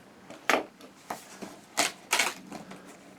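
Scissors snipping and slicing open the cardboard box of an HP DeskJet 2720e printer, a series of five or six sharp, close cuts and crinkles spaced irregularly over a few seconds, fairly quiet with no talking.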